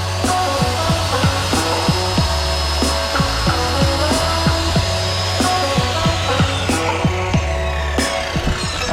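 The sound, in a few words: sawing wood for skateboard rack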